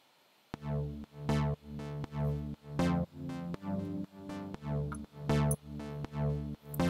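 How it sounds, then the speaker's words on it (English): Synth chords sidechain-compressed by an unheard kick drum, pumping in a steady rhythmic swell and duck roughly twice a second, quiet and alone. "So every time this invisible kick drum hits, it compresses the sound of the synth."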